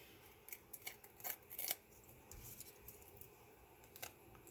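Paper backing torn and peeled off a sticky, intricately cut die, with a few short ripping and crackling bursts near the start and then quieter rustling, close up and with no talk.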